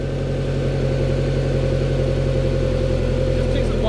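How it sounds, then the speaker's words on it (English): A car engine idles steadily and loudly up close, a smooth continuous rumble with a quiet muffler, while a person talks over it. "You can hear the idle more than the muffler in the back"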